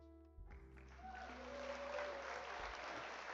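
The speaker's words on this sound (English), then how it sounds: "That comment deserves a clap." A clap sound effect plays on a live forex trading stream, a burst of crowd applause that swells and holds steadily, fairly loud and alone with no talk over it.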